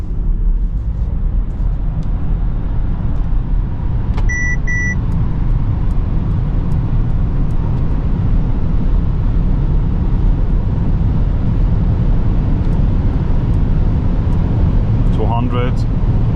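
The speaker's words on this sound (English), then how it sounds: "Pushing full throttle right now." A 2023 Mercedes EQS 580 SUV on winter tires accelerating at full throttle on the Autobahn, a constant loud road and wind roar inside the cabin, with a couple of short chimes and a brief whine near the end.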